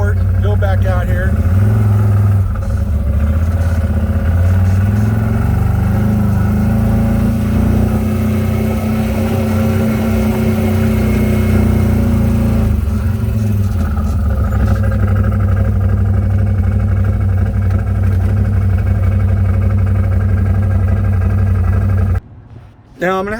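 A UTV side-by-side engine runs loud and close, idling and then revving as the machine pulls forward, with its pitch rising and falling. A voice talks over the engine.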